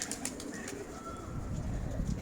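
A pigeon coos faintly outdoors, soft and brief against a quiet background with a light rustle.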